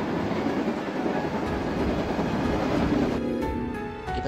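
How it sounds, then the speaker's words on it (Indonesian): An animated train rolls along rails in a steady, loud rumble with rhythmic clatter, and the tone shifts toward the end as it passes close by. "tiba-tiba ada kereta lagi dari timur"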